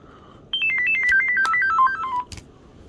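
A Kyocera mobile phone plays its shutdown tone, a bright electronic melody of short stepped beeps descending in pitch, loud and close, lasting under two seconds before stopping.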